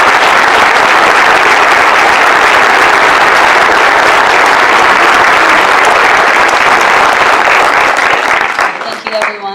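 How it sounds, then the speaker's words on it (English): A full audience at a teachers' awards ceremony applauds a teacher, a dense, loud, steady wash of clapping that continues for several seconds before cutting off abruptly. "Please, let's all give a round of applause for one of Greenwich's best teachers,"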